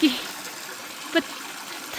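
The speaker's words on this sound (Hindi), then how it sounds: "ये पानी का धारा देखो सबसे तो कितना सुंदर है।" A stream of water runs over stone outdoors in the Kinnaur region, a soft, steady rushing with a faint trickle and a brief splash partway through.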